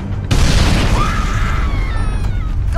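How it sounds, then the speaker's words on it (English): Missile launch blast in a war film action scene, a loud boom erupting into a sustained roaring rumble with a rising whine that persists to the end. "We need to fire the missiles."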